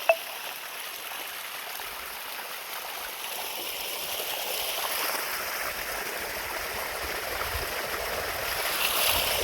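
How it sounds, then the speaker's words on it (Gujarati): Irrigation water runs through a cotton field of plants about 100 to 110 days old, a soft continuous rushing and trickling that swells slightly toward the end, opening with one small click. "પાણી ચાલુ છે."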